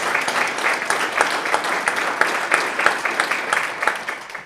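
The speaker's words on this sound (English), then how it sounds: "Round of applause." Audience at the 2025 ACAP awards ceremony gives a steady round of applause, many hands clapping continuously at moderate volume with no speech over it.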